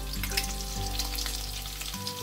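Garlic frying in hot oil for a tempering with mustard seeds, a dense steady sizzle with crackling pops, close and loud, with a low hum running underneath and no voices.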